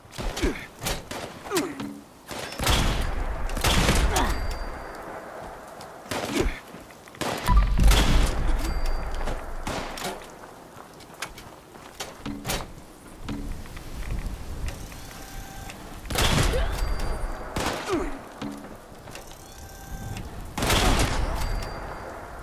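Berserker Gauss rifle firing in the video game Fallout 76, a series of loud, sharp shots spaced a few seconds apart, each with a booming tail, over a low ambient game background.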